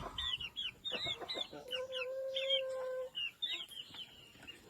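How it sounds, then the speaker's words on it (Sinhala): Egg-laying hens on a small farm, a flock of around twenty, cluck and squawk in quick bursts, one drawn-out call cutting through the middle, fairly close over a steady outdoor background. "මේ ඉන්නේ බිත්තර දාන සත්තු"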